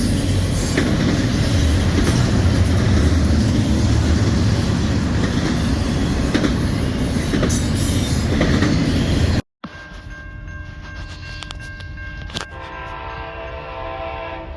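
A loud train rumbles past with continuous rolling noise at Hammond Amtrak Station, then cuts to a quieter late-night scene where a train sounds, with a horn blast near the end.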